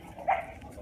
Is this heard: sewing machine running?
no